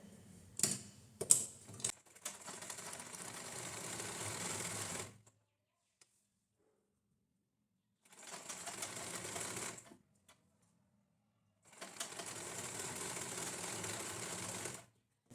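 An electric sewing machine stitches a lined blouse in three steady bursts of fast, even rattling, each a few seconds long and separated by silence. A few brief clicks and handling knocks come at the start.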